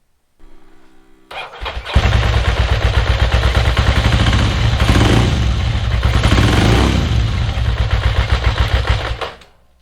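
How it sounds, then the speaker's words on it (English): A 1992 Ducati 900SS with carburetors that need syncing cranks, catches and settles into a loud, lumpy idle with a pulsing twin-cylinder beat, close up, before cutting off. "Still haven't got the idle right. It either idles at 900 or 2000."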